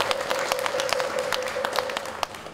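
An audience at a Buddhist monastic inauguration ceremony claps steadily, a dense, fairly loud roomful of hands with scattered sharper claps, while a faint tone lingers beneath.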